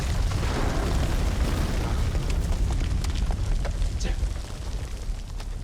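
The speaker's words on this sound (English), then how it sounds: "Good thing I have my grenade." Grenade blast in the video game House of Ashes, a loud sustained rumbling roar that fills the whole stretch and eases slightly near the end, with voices partly under it.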